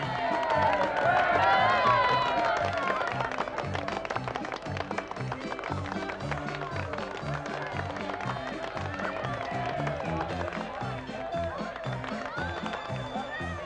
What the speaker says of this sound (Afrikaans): Hoor net hoe hard klap hulle, Mario.